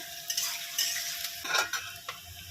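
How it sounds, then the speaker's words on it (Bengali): Onion fries in a pan with a soft steady sizzle, joined by a few brief scraping and clinking stirs, quiet and close with no talking. "প্রথমে আমি পেঁয়াজটা একটু ভেজে নেব"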